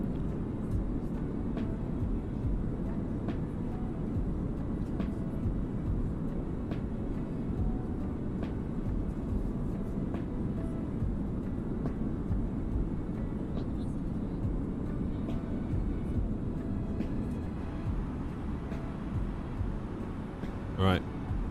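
Steady, broadband cabin engine drone of an Airbus A320 in Microsoft Flight Simulator 2020, a constant low rumble and hiss, unchanging for the whole stretch, with a faint click near the end.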